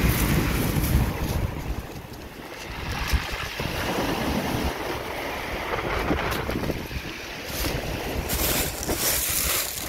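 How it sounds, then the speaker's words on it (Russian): Strong, gusting wind buffets the microphone continuously during a coastal storm at Kastropol, mixed with the wash of waves, loud and steady with brief lulls. "Очень сильный ветер"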